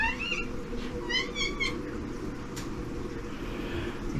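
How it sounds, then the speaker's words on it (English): A pet cat meows a few times in a home with a mixed reef aquarium, a quick run of short calls under steady background hum. "Now I've got a cat in the way of my epic reveal."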